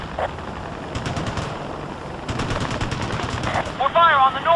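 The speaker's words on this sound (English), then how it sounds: "We're taking heavy fire." Heavy gunfire in the helicopter combat game Ace Combat: Assault Horizon, bursts of rapid automatic shots rattling in and out of a dense battle din, with a radio voice briefly heard near the end.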